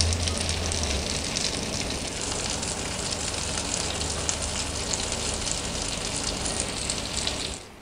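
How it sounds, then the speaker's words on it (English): Bacon in the oven sizzles loudly and continuously with a dense, spitting crackle that holds steady for several seconds before tapering off at the end. "look at that just sizzling away in the oven"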